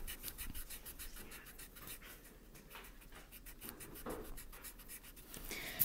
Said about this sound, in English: I'm trying to erase this line a little.